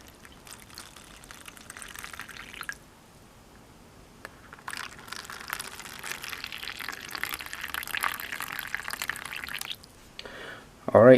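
Warm water is poured into plastic tubs in bursts, a bright splashing stream that stops, then returns longer and louder, with small knocks and a clatter at the end.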